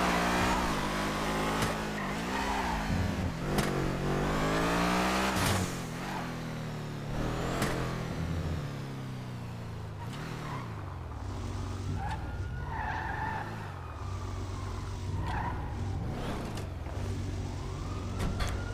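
A car revs hard and skids, with engine pitch sweeping up and down, tire squeals and sharp shifts as it pushes through turns, loud and close throughout.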